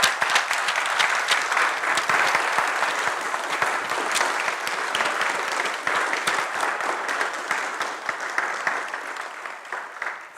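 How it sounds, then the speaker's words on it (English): A graduation ceremony audience applauds the science supervisors with continuous, dense clapping that runs strongly for about ten seconds and eases a little toward the end, with no voices over it. "And let's applaud them."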